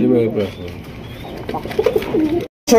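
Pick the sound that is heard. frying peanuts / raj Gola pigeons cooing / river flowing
raj Gola pigeons cooing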